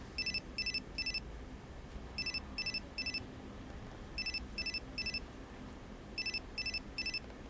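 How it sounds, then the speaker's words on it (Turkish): A phone rings faintly in repeated bursts of three quick electronic trills, separated by short pauses, over a low background hum. "Cem, telefonun çalıyor."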